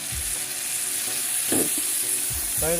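Spices for a tempering sizzle and crackle in hot oil, a steady loud frying hiss, with a few soft knocks from the pan.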